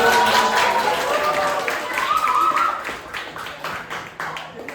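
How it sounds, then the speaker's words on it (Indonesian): Audience at a group ice-breaking games session claps hands in a brief burst, with voices talking over the clapping before it thins out. "Tepuk tangan semua."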